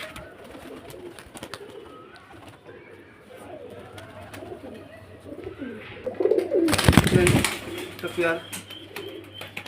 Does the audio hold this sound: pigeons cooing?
yes